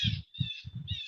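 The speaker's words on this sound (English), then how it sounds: "The bird's got a lot to say out here." A bird calls outdoors in a quick run of three or four harsh, crow-like caws with short gaps between them, fairly close and alone.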